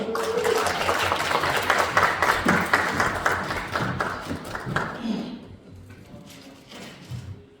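Audience applause in a hall for an independent National Assembly member arriving at a book talk on the National Security Law, dense clapping filling the first five seconds, then thinning out to a few scattered claps.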